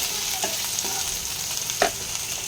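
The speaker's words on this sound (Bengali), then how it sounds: "তারপরে পেঁয়াজটা হালকা ভাজা হয়ে গেলে দেবো কলমি শাকগুলো।" Water spinach and onion stir-frying in a pan, a steady close sizzle with a few brief scraping stirs of a utensil over it.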